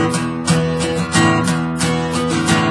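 An acoustic guitar strums the verse riff of Jake Bugg's "Trouble Town": bright, loud chords in a steady rhythm with regular attacks and shifting chord shapes, played alone without voices.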